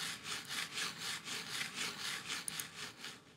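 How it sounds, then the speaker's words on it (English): Computer mouse sliding back and forth on a hard glossy Corsair Polaris MM800 RGB mousepad makes a faint, rhythmic scratchy rasp, about a dozen quick strokes in steady succession with no voices. "And then there's the sound of your little mouse scuttling along the surface."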